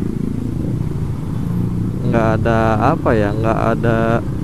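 A Honda Beat scooter running on Shell Advance oil idles low, then revs up and down in several quick, smooth throttle blips, close and loud.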